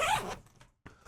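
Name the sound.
zipper on a JackPack Glide XL bag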